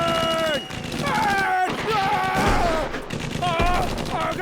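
Dense bursts of staged gunfire, a rapid fusillade of shots crackling over shouting voices in a chaotic comedy scene, loud and continuous throughout.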